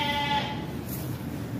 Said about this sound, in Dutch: de geiten